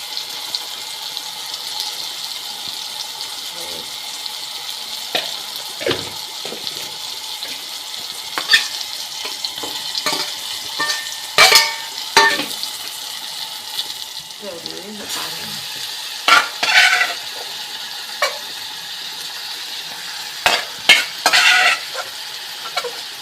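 Onion and tomato fry in a pan for a Konkani-style prawn dish, giving a steady sizzle broken by scattered spoon scrapes and clinks, with faint voices now and then in the background.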